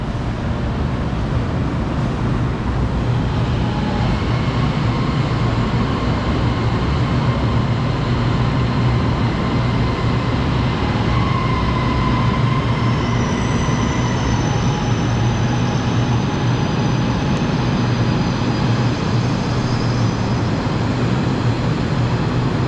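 A continuous loud rumble of a driver-operated LRT light rail train in motion in Malaysia, with steady wheel and track noise and faint high squeals, no talking.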